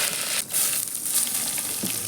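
Curry leaves sizzling in hot coconut oil with mustard seeds and crushed garlic for a tempering, a close, loud hiss with a brief dip near the start, crackling steadily with no talk.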